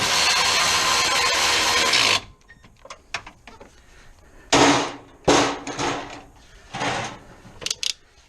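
A 10mm socket tightens bolts on a Honda Accord AC condenser. A long, loud, steady whir from a power driver is followed by several short, close ratcheting and clattering bursts, with no talk.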